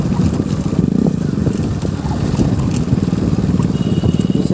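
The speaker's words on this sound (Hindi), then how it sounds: "पीछे भी दो बाइक है आगे भी दो बाइक लोग निकलते चल रहे हैं" A group of motorcycles rides along a village road, their engines making a rough, continuous drone that is thick with wind buffeting on the microphone and holds steady with no talking.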